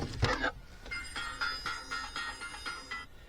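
A telephone rings nearby in a home during a 2005 Nissan Altima radio install, sounding as a short burst followed by a steady series of repeated electronic rings, fairly loud and close with no talking over it.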